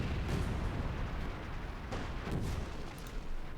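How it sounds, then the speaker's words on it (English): Artillery bombardment from a StuG III E assault gun in Company of Heroes 2, a dense, continuous rumble of booming blasts and bursts with several sharper impacts standing out, loud and sustained. "A nice bombardment here by the Stug 3E"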